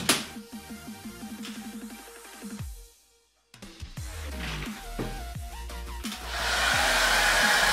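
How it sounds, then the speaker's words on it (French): A hair dryer on a cool setting switches on after a brief pause and blows with a steady, loud whoosh over a hairpiece, preceded by some clattering and tapping sounds. "je vais simplement passer un coup de sèche-cheveux"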